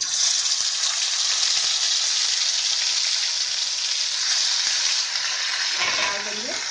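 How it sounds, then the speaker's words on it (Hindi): Garlic-ginger paste sizzles hard in leftover oil from frying, part of a jackfruit masala sabji, a loud, steady, close hiss that fills the whole stretch with faint stirring clicks. "अब हम उसी तेल में जो बचा हुआ है इसमें डाल देंगे लहसुन अदरक का पेस्ट।"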